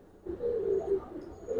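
A female Giribaz pigeon gives a steady run of low, rolling coos, close and moderately soft, with faint background hiss.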